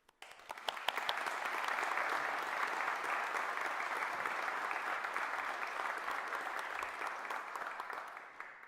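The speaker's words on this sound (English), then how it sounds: "So clap, cheer, and celebrate yourselves and others around you." Graduates at a Fife College graduation ceremony clap and cheer in a large hall, a dense, steady roar of applause that swells after a brief start and holds strong without pause, no voices standing out.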